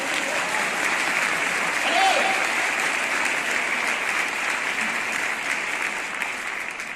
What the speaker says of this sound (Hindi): ताली तो लगा दे यार